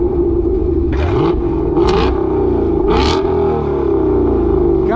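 A 2021 Ford Mustang GT with a 5.0 V8 and Corsa cat-back exhaust, a deep continuous engine rumble close by, with a few brief sharp bursts of higher noise over it.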